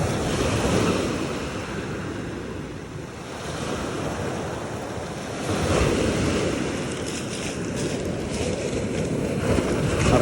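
Sea waves surging and breaking on the Spanish coast, a continuous broadband roar with swells rising and falling, heavy wind buffeting the microphone throughout and no voices.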